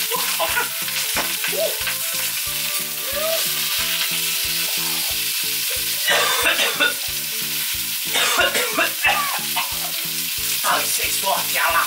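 A tomahawk beef steak sears loudly in a pan with chili, a dense, continuous close sizzle running throughout, with bursts of crackling spatter.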